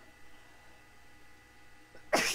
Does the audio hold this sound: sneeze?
yes